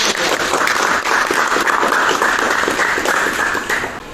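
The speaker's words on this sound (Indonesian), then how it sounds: "Beri tepuk tangan untuk kelompok 1." Steady classroom applause for a student group during an automotive engineering lesson on brake systems, dense clapping from many hands sustained evenly for about four seconds before tapering slightly at the end.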